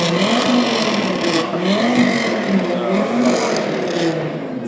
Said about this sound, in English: Right, let's have some revs.